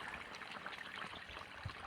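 Irrigation water flowing into a chickpea field, a faint, steady trickling and gurgling stream outdoors, continuous and unbroken with no voices.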